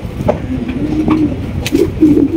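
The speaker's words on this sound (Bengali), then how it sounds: "এটা হচ্ছে মুন্ডি কবুতর, অ্যান্ডালুসিয়ান মুন্ডি কবুতর" An Andalusian Mundi pigeon cooing up close, several short, low, throaty coos in a loose rhythm over faint background noise.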